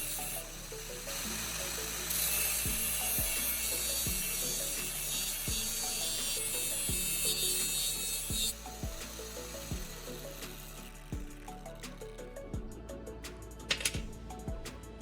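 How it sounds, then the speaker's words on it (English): Metal clinks and ratcheting taps come from L-shaped steel brackets being assembled with bolts and nuts for a manual potato planter, sounding as a regular series of sharp knocks and spinning rattles close by, with no talk. "I'm now assembling the L-shaped brackets with bolts and nuts."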